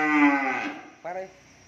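Cattle on a cattle farm low in a long, loud moo, then a shorter second moo after a brief pause, close by with no one talking.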